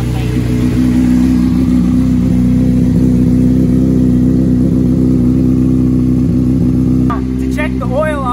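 A 2005 Honda CBR 600RR sport bike engine runs loud and steady close by, holding a constant drone with slight rev fluctuations throughout, and a brief voice cuts in near the end.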